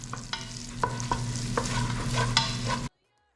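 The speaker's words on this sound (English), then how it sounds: "cook up the lobster meat. After that was done, fry up the eggs, dump the lobster meat back in, mix it all up together" Lobster meat and eggs fry in a pan, a close sizzle with sharp metallic scrapes and clinks of stirring for about three seconds before cutting to silence.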